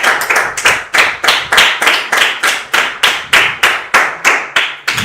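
A church congregation claps in a fast, steady rhythm during a Sunday worship service, sharp loud hand claps repeating evenly and close by with no voices.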